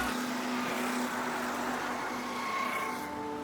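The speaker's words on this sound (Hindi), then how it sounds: "कानी गाड़ी लेके घूम रहे हो," A car drives past with a steady engine drone and road noise holding at a fairly even level throughout, with a faint tonal hum rising toward the end.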